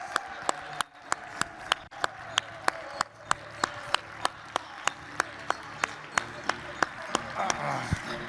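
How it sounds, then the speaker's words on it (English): An audience at a business talk on AI and LinkedIn content claps in a steady, even rhythm to welcome a speaker to the stage, the sharp regular claps standing out over a murmur of crowd noise. "Will you guys please help me welcome, big round of applause"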